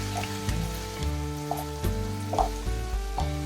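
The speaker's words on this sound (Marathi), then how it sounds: "हा मसाला अगदी तेल सुटेपर्यंत भाजून घ्यायचा आहे आपण" Masala with onion-garlic chutney roasting in oil for Kolhapur-style spicy misal, a soft steady sizzle beneath a repeating low hum, with faint periodic taps of stirring.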